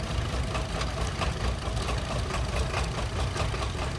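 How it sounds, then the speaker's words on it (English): Antique tractor engines rumble steadily during a drive of about 60 old tractors through Thayer County before the county fair, a continuous loud mid-low engine drone with knocking pulses and no talk. "with about 60 antique tractors driving from Deschler to Byron"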